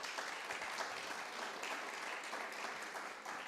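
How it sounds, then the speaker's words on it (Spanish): A church congregation at a Sunday service gives a round of applause, a soft, even and continuous patter of many hands heard from a distance, with no talk. "de un aplauso"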